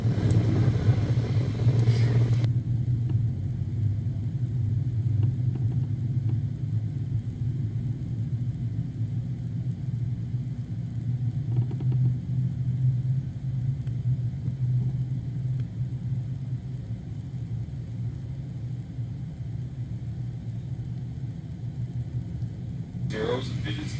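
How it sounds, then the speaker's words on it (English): Dirt track race cars in a King of Dirt Series final event roar together down the front stretch three wide, a continuous loud engine rumble with an announcer talking over it. "Cars go 3 wide down the front stretch as Bublak goes way to the"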